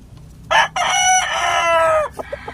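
A rooster crows once, loud and close, a long harmonic call that drawls downward before breaking off, followed by a few soft clucks.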